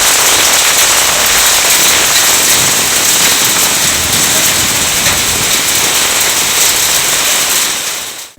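Heavy rain pours steadily over rural Telangana under dark clouds, a dense, loud hiss of drops that holds constant throughout and fades out only at the very end, with no voices.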